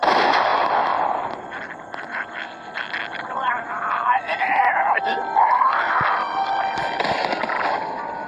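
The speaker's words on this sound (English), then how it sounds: "That shot rang out for miles." A gunshot cracks in The Walking Dead game, the sharp report landing late in a tense scene full of raised, shouting voices and dramatic ambience.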